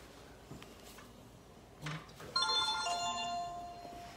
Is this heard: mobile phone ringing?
yes